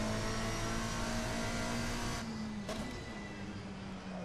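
Engine of a modded car in the racing game Assetto Corsa, a steady low drone with a held pitch that dips briefly and then settles, loud and continuous with no voices.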